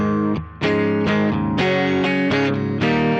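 Electric guitar on the neck humbucker, run through a Nux Plexi Crunch high-gain pedal, plays crunchy distorted chords in a series of ringing strums that sustain between hits, loud and close with no talking.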